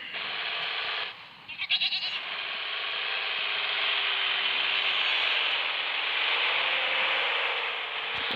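Under a steady, hissing engine drone from an offroad driving video game, a goat gives a brief wavering bleat near the start; no voices are heard.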